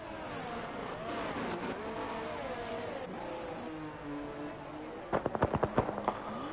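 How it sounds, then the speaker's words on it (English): Race cars roar and rev steadily in a racing video game set in Mexico, then a quick run of sharp fireworks pops and crackles bursts near the end of the race, loud over the engine noise. "The fireworks are going off."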